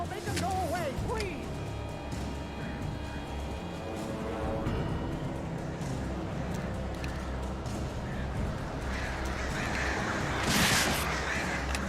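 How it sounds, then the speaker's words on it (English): Crows cawing in the video game Alan Wake, repeated harsh calls over a dense layered background of game ambience and music, with a voice speaking at times. "These birds are weird."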